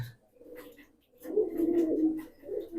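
Jobra Pankhi pigeons coo in low, soft bursts, one short call followed by a longer rolling coo and a brief final murmur, close by with no talk.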